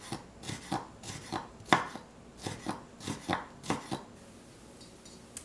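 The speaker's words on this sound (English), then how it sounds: "We are just going to cut this up really finely." A knife chops frozen ginger finely on a board in a quick, steady run of about a dozen crisp strikes that then stop, close and clear with no talking.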